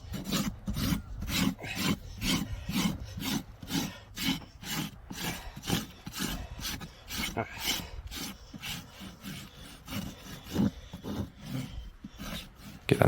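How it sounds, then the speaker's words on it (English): Steel rasp strokes filing the edge of a large draft horse hoof to bevel it, a steady run of rhythmic scraping passes about twice per second, close and clear with no talking. "Get a nice bevel all the way around."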